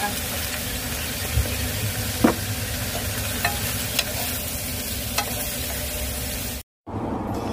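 White onion stir-frying in a pan, a steady close sizzle and hiss with occasional clinks of a utensil stirring, continuous throughout apart from a brief cut near the end.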